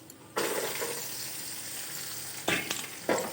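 Onion and chillies hit hot oil for keerai poriyal, a sudden loud sizzle that then holds steady, with a couple of fresh bursts of frying as the pan is stirred.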